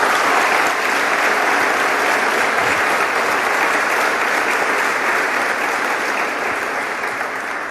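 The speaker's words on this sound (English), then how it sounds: "one more round of applause to all those prize winners" Applause for prize winners at a high school valedictory ceremony, a dense, sustained roar of many hands clapping in a hall that holds steady for several seconds before easing slightly.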